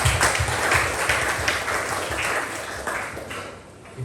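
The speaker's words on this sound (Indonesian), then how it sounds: "tepuk tangan dulu buat Tuhan" A church congregation claps for God during a sermon, a broad wash of applause spread through the room, fairly even and moderately loud, with a low rumble underneath and no speech over it.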